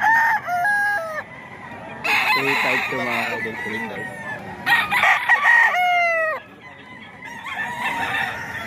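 Several gamecocks at a rooster market in Bocaue, Philippines give loud, drawn-out crows one after another, some close and some distant, while someone speaks briefly between them.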